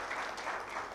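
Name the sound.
conference audience applauding for Francis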